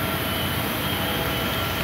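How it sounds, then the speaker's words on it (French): Airliner jet engine roar at an airport, a steady broadband rumble and hiss heard from inside or near the plane, continuous and fairly loud with no talking. "c'est l'avion"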